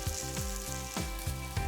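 Sizzling and crackling fills the pan as onion is cooked in hot oil for a beef stew, a steady close frying hiss with repeated soft stirring scrapes and no talking.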